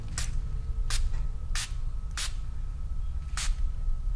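Spray bottle misting water onto ink artwork, five short sharp hissing bursts spaced irregularly, close and crisp over a low background hum, no talking.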